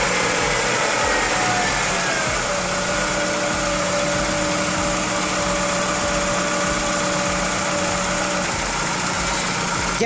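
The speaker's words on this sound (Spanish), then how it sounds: "en este momento voy a poner contacto y prender el auto" A car engine idles steadily after being started, a continuous close hum with a faint high whine running through it, no talking present.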